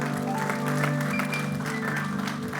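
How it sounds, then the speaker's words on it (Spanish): Congregation applause during a Spanish-language church service, steady clapping under a sustained musical backdrop of held tones, continuous and fairly even throughout. "Dale un aplauso fuerte al Señor porque Él es bueno."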